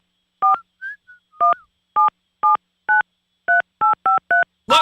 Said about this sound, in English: Look, Ma, I'm dialing.